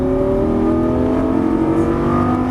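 Lamborghini Gallardo LP550-2 engine pulling hard on a race track, a loud, steady, close engine roar holding strong throughout with no talk over it.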